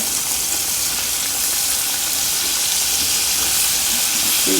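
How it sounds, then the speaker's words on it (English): Chicken pieces fry in oil in a pot over a coal fire, producing a loud, dense, continuous sizzle and hiss that holds steady throughout, with no talking. "Let them fry it at least 10 minutes each side."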